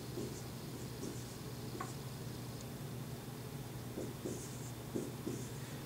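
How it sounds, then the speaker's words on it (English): A pen scratches out math notes beside an absolute value graph, with soft intermittent strokes and taps, quiet and close. "Now I'm going to just write DNR"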